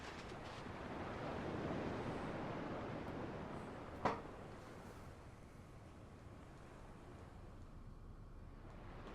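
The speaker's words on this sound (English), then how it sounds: "At least the waves sound the same." Steady ocean surf washes through a Kingdom Hearts 2 video game scene as a continuous, moderately quiet roar of breaking waves, with a single sharp click midway and no voices.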